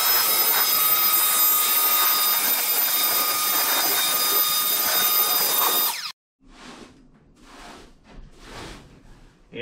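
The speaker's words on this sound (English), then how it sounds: "we got a big mess in here to clean up, and the best way to do it is with your blower." A blower clears sawdust from an LT10 sawmill, giving a loud, continuous close-up roar for about six seconds. It cuts off abruptly and is followed by a few short, softer hissing bursts.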